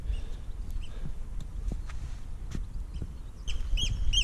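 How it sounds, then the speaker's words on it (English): Scattered bird calls ring out over steady outdoor background noise, with a cluster of sharper repeated calls near the end. "Noisy birds."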